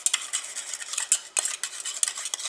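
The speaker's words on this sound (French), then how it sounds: "Je vais commencer par prendre ma phase aqueuse à laquelle je vais rajouter mes 6 g d'urée. Et je mélange." Urea being stirred into the aqueous phase of a homemade winter foot cream, heard as a steady run of light, quick scraping and clinking strokes against a bowl, close and fairly soft, with no voices.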